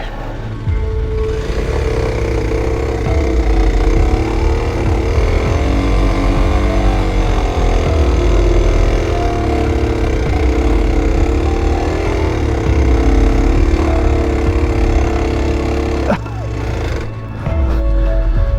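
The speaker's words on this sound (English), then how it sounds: "cars going that way." Engine noise from vehicles in the Mauritanian desert, a loud continuous drone with a steady low rumble that holds throughout and drops briefly near the end.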